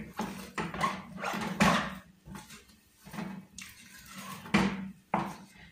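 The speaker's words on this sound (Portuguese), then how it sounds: "esse barulhinho é a panela que faz. O fundo dela tem uns... tipo uns frisezinhos que faz esse barulho." Wooden spoon stirring thick pumpkin sweet in a pan whose bottom has small ridges, giving repeated scraping and rattling strokes in an irregular rhythm, fairly close and moderately loud, with no talking.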